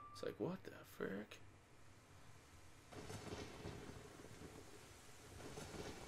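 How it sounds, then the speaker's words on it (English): A brief voice speaks at the start, then steady rain sets in with a low thunder rumble beneath it in The Legend of Zelda: Ocarina of Time, fairly quiet. "I always loved rain in this game and like the thunderstorms"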